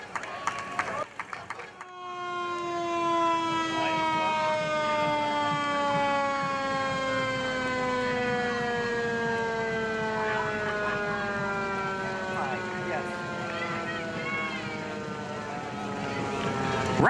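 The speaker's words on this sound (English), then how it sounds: "Representing the Rochester Lions Club is this old fire engine." A wailing siren from an old fire engine in the Rochester Swede Day parade, rising and holding steady for most of the stretch, loud and close, with crowd noise and a brief burst of other sound at the start.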